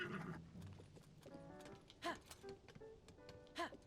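Epona the horse in Zelda: Tears of the Kingdom gives a couple of whinnies with clip-clopping hooves, fairly faint game audio with soft background sounds.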